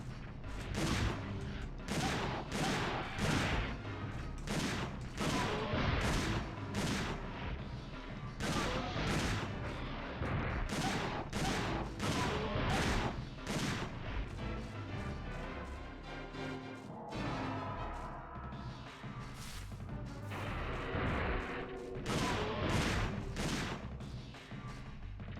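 Shotgun blasts in the dinosaur action game Dino Crisis 2 go off in rapid succession, each a sharp loud bang over a dense bed of game music and creature noise that carries through the whole stretch.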